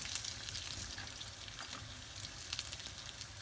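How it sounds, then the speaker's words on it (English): Steady, close sizzling of egg rolls frying in hot oil, with crackling bursts and pops throughout and no voices. "This is frying so fast."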